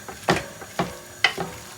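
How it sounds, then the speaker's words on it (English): Carrots and broccoli are stirred in a cooking pot, giving several distinct scraping, sloshing strokes at an uneven rhythm over a faint sizzle, close and moderately loud. "give it a good mix around"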